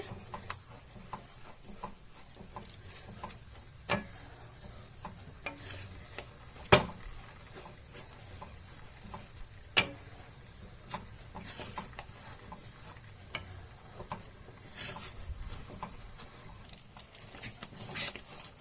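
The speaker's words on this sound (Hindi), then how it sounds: "ये 200 ग्राम क्रीम है। इसे डाल के हम मिला लेंगे इस तरीके से।" A spoon stirs cream into a simmering paneer butter masala gravy, giving soft scraping and gentle bubbling with occasional sharp clinks against the pot, fairly quiet and close, with no talking.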